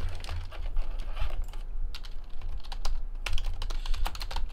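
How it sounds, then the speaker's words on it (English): Steady clattering keystrokes on a computer keyboard entering trading-card break results, close and continuous with no talking. "We'll type in all of the hits, and we'll see who gets what."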